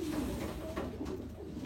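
A racing pigeon coos softly and continuously in a loft, a low steady murmur filling the short stretch with no other sounds standing out.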